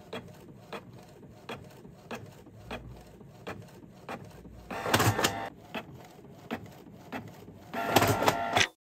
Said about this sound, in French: Je viens d'imprimer toutes mes pages